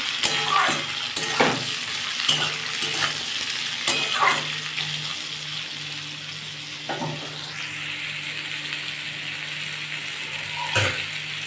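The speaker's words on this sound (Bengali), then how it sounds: "একটু সামান্য নুন দিলাম দিয়ে সেটাকে ভালো করে ভাজবো" Bitter gourd with a little salt fries in a pan for a potato and bitter gourd dish, a constant sizzle broken by scraping stirs and clicks of the utensil.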